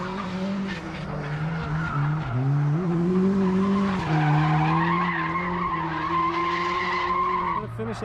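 Drift car skidding down a hill at a drift invitational qualifying run, tires squealing over a loud, sustained engine wail that rises and falls, with commentary voices talking over it.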